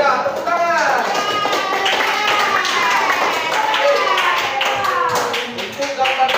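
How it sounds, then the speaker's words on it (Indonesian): Classroom applause for a student group during a lesson on writing news texts. Students clap in a dense, fairly loud patter throughout, with children's voices and chatter mixed in over the clapping. "Ya, tepuk tangan."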